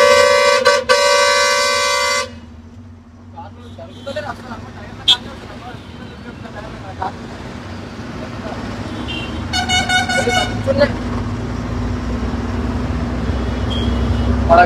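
Busy road traffic beside a Sunday market, heard from a cement-laden truck: loud honking horns at the start, then a steady rumble of engines and passing vehicles, with another burst of horn tooting midway and voices talking over the noise.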